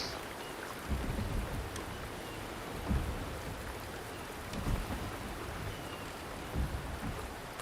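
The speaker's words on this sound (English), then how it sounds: "The rain is subsiding, and the sky will soon clear." Heavy rain pours in the video game Wuthering Waves, a dense continuous hiss broken by several low rolling thumps of thunder spaced a few seconds apart.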